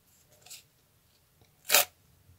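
A small paper surprise packet is peeled open, with a soft crinkle followed by one sharp, close tearing rip in a quiet room.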